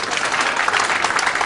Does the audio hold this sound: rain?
no